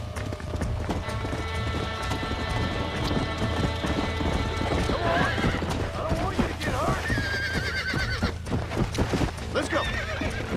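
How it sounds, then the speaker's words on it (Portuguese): Horse in the Red Dead Redemption video game whinnying loudly and clip-clopping its hooves over steady game music, with someone talking to it now and then. "Vem, cavalo do caralho."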